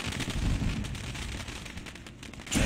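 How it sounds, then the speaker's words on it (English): Fireworks crackle in dense, rapid bursts at Eldora Speedway before a Pro Late Models dirt race, loud and continuous with a fresh volley at the end. "The fireworks are going off right now"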